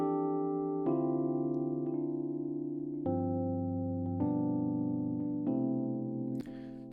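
A sampled road sound run through a basic delay object in Max, heard as sustained harmonic tones that step between pitches every second or so, with delayed repeats layering over them, steady and fairly loud with no talk.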